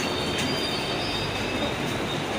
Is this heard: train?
yes